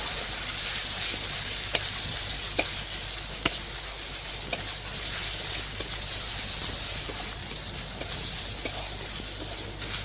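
Garlic, ginger, cumin, green chili, black pepper and cinnamon pastes are stirred into frying onions for a mutton dish with green papaya, giving a steady close sizzle broken by several sharp clicks from the spoon against the pan, with no talk.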